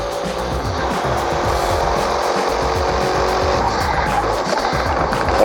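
An AMG car in Forza Motorsport roars continuously at high revs while drifting, a loud, dense engine drone with tire noise layered over it and no pauses.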